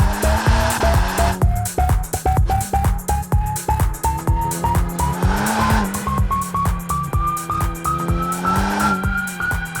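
A 2021 Ferrari Roma launching hard with power start, its engine revving up through a rising pitch sweep with rapid pulsing and a shift near the midpoint, loud and close throughout.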